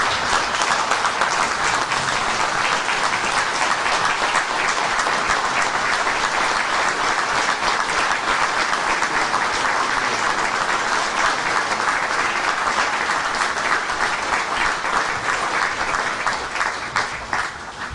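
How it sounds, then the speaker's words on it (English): Sustained, loud audience applause fills a meeting hall as President Donald Trump is welcomed to address the Defeat-ISIS coalition meeting, steady dense clapping throughout that tapers slightly at the end. "please join me in welcoming the President of the United States, President Donald Trump"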